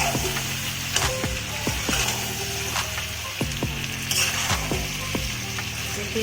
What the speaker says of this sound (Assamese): ঢাকনিখন উলগাই চাইছোঁ মাংসখিনি লৰাই দিছোঁ